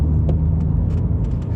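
A Mini JCW GP3 hot hatch taking a corner, its engine and road noise a steady, loud low rumble from inside the cabin, with a few faint clicks and ticks above it and no talking.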